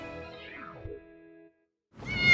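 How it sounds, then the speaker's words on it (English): A cat outdoors gives one drawn-out, falling meow, then after a brief silence starts a second louder, rising yowl that cuts off at the end. "Who let the cat out?"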